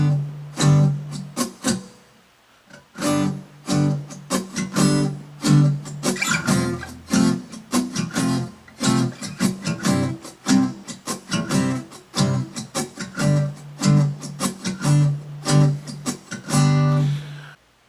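Guitar strummed with the strings muted for a Hindi song rhythm, producing a dense, percussive, choppy eight-beat pattern of quick chugs and accents, played loud and close with no voices.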